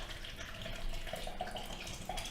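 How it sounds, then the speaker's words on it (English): Tap water runs steadily from a faucet as cherry tomatoes are rinsed, a soft continuous hiss and splash with faint splatters, moderately quiet and without talk. "So how we usually wash our fruits and veg"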